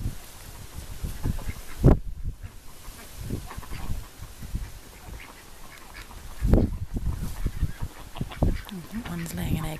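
Chickens come closer in a backyard garden near protected courgette plants, with a couple of sharp, loud calls standing out over scattered clucking and rustling while a person talks nearby.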